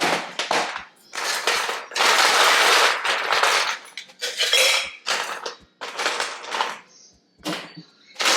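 Ice rattling in a cocktail shaker, loud close bursts of hard clattering shakes separated by short pauses, with no talking.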